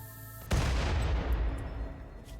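Point-blank gunfire at a shield belt in Rimworld: a sudden loud blast after a low hum, decaying into a rough rumbling tail over about two seconds.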